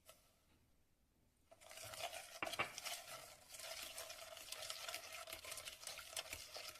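After a quiet pause, a whisk stirs a custard mixture with lemon juice and freshly added sugar in a bowl, giving a steady, soft scraping swish with occasional light clinks against the side.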